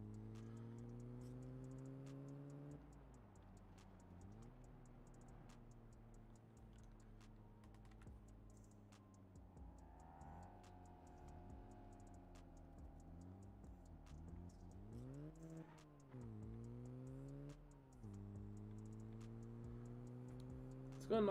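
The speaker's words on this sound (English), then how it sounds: "The indicators don't sound too right" In GTA 5, an older column-shift car's turn indicator ticks in a steady, evenly spaced rhythm throughout, crisp clicks over a low, shifting engine hum.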